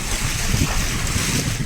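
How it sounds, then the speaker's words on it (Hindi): A vehicle fords the Pandai river at night on a jungle drive near Valmiki, giving a steady, close rumble of churning water mixed with wind buffeting, with no voices. "ये नदी है पंडई नदी और इसको हम क्रॉस कर रहे हैं"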